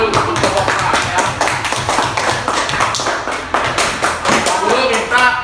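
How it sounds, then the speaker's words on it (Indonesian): A class of students claps for a floor gymnastics group in a school setting, a loud, busy spatter of hand claps and some thuds that runs continuously, with voices mixed in. "Beri tepuk tangan dulu untuk kelompok 4 ya."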